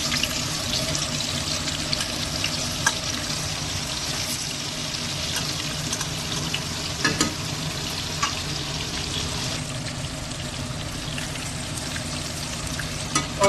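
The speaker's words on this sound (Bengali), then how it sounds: "তেল দিয়ে ভেজে দিচ্ছি, মাছটাকে ফ্রাই করছি আমি।" Fish frying in hot oil in a kadai for a Bengali fish curry, a loud, steady, dense sizzle held close and continuous throughout, with occasional faint pops and stirring clatter.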